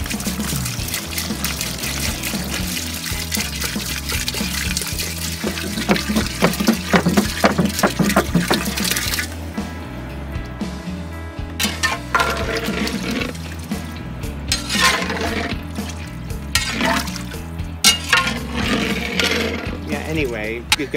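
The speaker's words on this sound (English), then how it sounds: "now we add 3 gallons of water" Three gallons of water pour into a big cast iron cauldron of jambalaya cooking outdoors. It sounds as a steady, loud rushing and splashing that runs for a long stretch, with voices talking over it.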